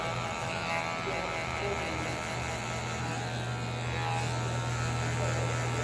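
Electric hair clippers set to 1.5 with the lever open run steadily through a haircut for a disguised mohawk, giving a close, continuous buzzing hum with no break.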